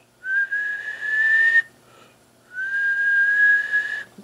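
Someone whistles a steady tone into a radio microphone while testing an HP201S wattmeter: two sustained, clear notes, the second after a short pause, each held for more than a second.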